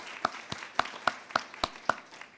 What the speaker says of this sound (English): So I think those folks deserve an applause